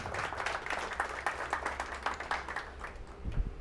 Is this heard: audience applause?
yes